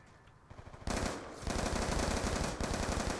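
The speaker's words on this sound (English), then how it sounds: "I freaking shot him in the head a lot" Rapid automatic gunfire in the video game Call of Duty, dense sustained bursts that start with a few scattered shots and then roar loudly and continuously up close, alone without talk.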